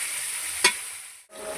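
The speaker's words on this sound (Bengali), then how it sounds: "এবার আস্তে আগুনটা রেখেই আমি ভালো করে কষিয়ে নেব।" Chicken sautés in a pan over a low flame, a steady soft sizzle with one sharp stirring scrape partway through and a brief dip before the frying resumes.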